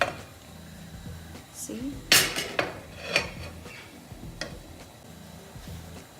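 Metal utensils clink and scrape against a pot or grate while food is turned over on charcoal for a smoky tandoori char during a Dal Makhani preparation, a few sharp knocks among softer clatter, with brief talk.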